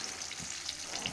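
Onions and coriander seeds fry in oil, giving a faint, brief, steady sizzle with light crackles and no voices.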